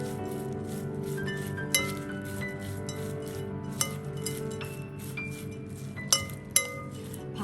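Spoon stirring aval (beaten rice) mixture in a vessel, soft continuous scraping and rubbing with occasional light metallic clinks against the side, close and quiet.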